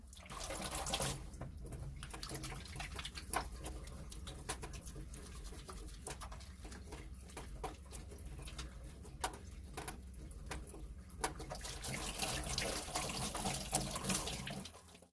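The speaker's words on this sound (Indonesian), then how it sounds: "setelah itu kita lakukan cuci tangan sebelum menyiapkan alat dan bahan." Hands washed under a running tap before wound care supplies are prepared after surgery, with a steady stream of water splashing throughout and birds cooing softly in the background.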